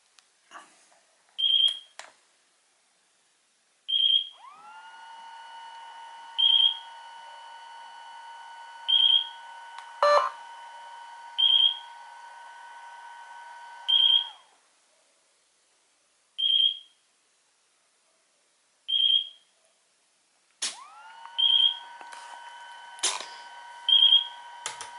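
A Taranis radio transmitter in bind mode gives short, evenly spaced beeps about every two seconds in a quiet room, with a few longer sustained tones mixed in.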